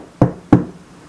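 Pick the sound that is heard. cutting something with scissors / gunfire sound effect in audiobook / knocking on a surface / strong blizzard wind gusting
knocking on a surface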